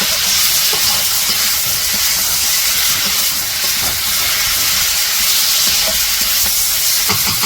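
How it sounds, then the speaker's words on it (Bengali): Chopped tomatoes frying in a pan for fish curry give off a loud, steady sizzle and hiss, with occasional stirring scrapes and no voices. "টমেটো কেটে রাখা হয়েছিল, টমেটোগুলো দিয়ে দিল।"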